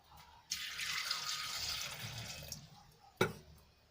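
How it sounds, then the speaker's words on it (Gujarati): A glass of water poured into a pressure cooker holding drumsticks for Kathiawadi kadhi, a steady close splashing pour lasting about two seconds, then a single sharp metallic clink. "તો આ રીતે મેં એક ગ્લાસ જેટલું પાણી એડ કરી લીધું છે"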